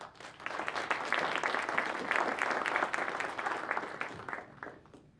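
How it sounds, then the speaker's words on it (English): Sustained applause from a conference audience for a superconductivity panel on electronics and computers, dense steady clapping for about five seconds that thins out toward the end. "let's have a round of applause for our panel"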